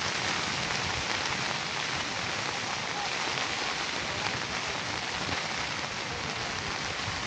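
Heavy rain drums steadily and densely on a taut tent while camping, a continuous close hiss and patter with no pauses.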